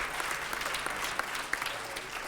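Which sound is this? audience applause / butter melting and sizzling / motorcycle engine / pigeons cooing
audience applause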